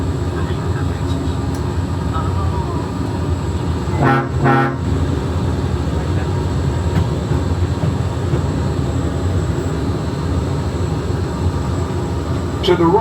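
A steady, even rumble of a Disneyland monorail heard from the front cab on the first run of the day, with a brief horn-like toot about a third of the way through.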